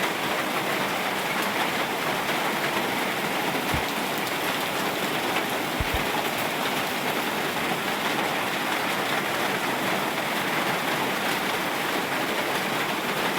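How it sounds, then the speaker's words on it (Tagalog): Heavy rain pours steadily at night near a supposed aswang haunt in the Philippines, a dense, constant hiss filling the whole stretch with a few faint low thumps and no talk. "napakalakas ng ulan"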